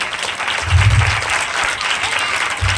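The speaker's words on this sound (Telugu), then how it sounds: "అందరూ చప్పట్లు కొడదామా?" Church congregation applauding together, a steady wash of clapping hands filling the hall for the full few seconds with a couple of low thumps underneath.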